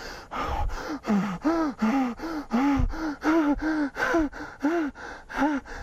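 Sharp, voiced in-breaths repeat in a steady rhythm, about two per second, close and fairly loud, as a breathing exercise is demonstrated with no talking.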